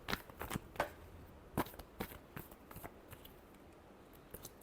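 Tarot cards being shuffled by hand, a series of quick, close papery riffles and flicks in uneven bursts, then quieter taps and slides.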